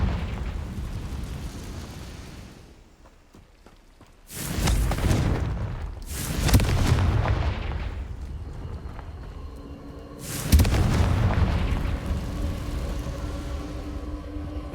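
Three booming fiery blasts from the Confringo explosion spell in Hogwarts Legacy erupt at a spider den, each a loud burst that rumbles and fades into crackling debris, with a quieter ambient lull before the first.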